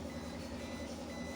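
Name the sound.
door closing alert beeping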